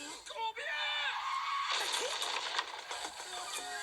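A man screams in rage, a loud strained yell rising out of a brief spoken phrase and holding for a couple of seconds with a raw, harsh edge.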